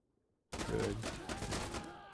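Rapid bursts of SAR rifle gunfire in the shooter game Insurgency Sandstorm, loud and close, starting abruptly after a quiet moment and rattling on in a dense volley.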